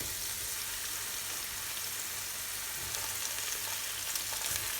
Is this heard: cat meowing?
no